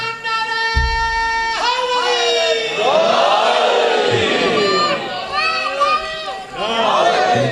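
A big congregation at a religious gathering roars out slogans together. Loud, overlapping shouted voices rise and fall in repeated bursts with a short low thump at the start.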